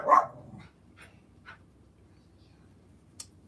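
A pet dog gives one sharp bark at the start, followed by a few faint scattered yips and whimpers inside a quiet house.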